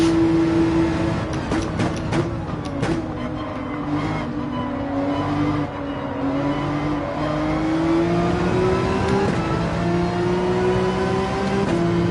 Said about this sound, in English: Oh, and I get another nitrous boost.